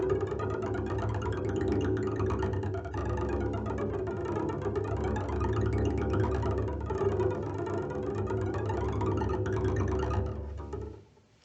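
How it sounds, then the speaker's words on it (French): Double bass played by rapidly striking the tip of the bow against the two middle strings, giving a fast, buzzing, rattling tremolo that sustains for about ten seconds before cutting off, with no voice. "mettre l'archet entre deux cordes et de frapper contre les deux cordes de façon très très vite"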